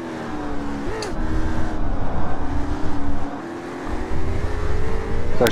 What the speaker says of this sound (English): you see them accelerating up the straightaway and you can hear the cars audibly downshifting